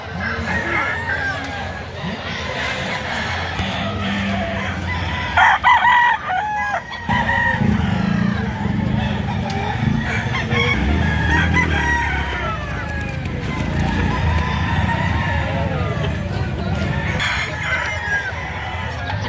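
Many roosters crow and hens cluck at a chicken market in Lipa, Batangas, over a noisy, crowded background, with people talking nearby throughout.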